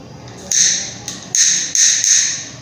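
A cigarette lighter flicked repeatedly without catching, giving four sharp, close scratchy clicks at uneven intervals over a quiet room.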